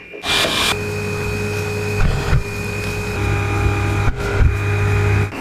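A steady hum from a vacuum cleaner cleaning its own filter, with a few brief bursts of rushing air and rattling as the motor briefly changes pitch, no voices.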